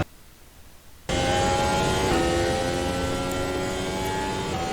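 A FRX-22 formula car's V6 engine in the RaceRoom racing game bursts in after a quiet moment. It then holds as a loud, steady, low-toned drone with a buzzing harmonic whine, shifting pitch slightly as it runs.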